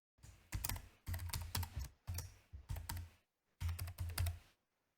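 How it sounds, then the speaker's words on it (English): Close, crisp typing of a wallet password on a computer keyboard, several short bursts of rapid keystrokes separated by brief pauses, with no other sound. "I'm going to go ahead and type in the password for this particular wallet"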